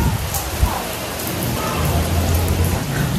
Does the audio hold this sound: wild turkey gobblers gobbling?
no